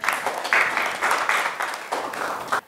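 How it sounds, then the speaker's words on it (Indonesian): Students in a class applaud a group with rhythmic clapping, a steady beat of loud bursts repeating several times close by. "Tepuk tangan dulu buat kelompok Ambon."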